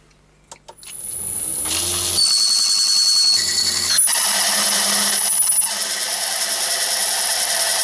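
A Myford lathe drills a 12mm hole into a stainless steel bar held in a collet chuck, making a steady whirring, grinding machine tone with a high whine that runs for several seconds after a few short clicks at the start.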